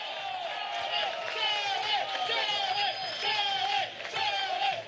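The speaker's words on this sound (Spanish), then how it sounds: "para quien pido un gran aplauso y que lo escuche en el cielo, Hugo Chávez." A large crowd at a PSUV political march in Guatire, Miranda, cheering and shouting steadily with scattered clapping, a dense, sustained roar that swells and dips, with voices blended into it.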